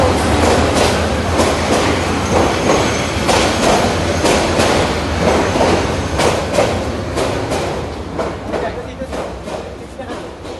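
A train pulls away from the railway platform at Sylhet, its wheels and carriages rumbling loudly and continuously with rhythmic clattering, gradually fading slightly toward the end.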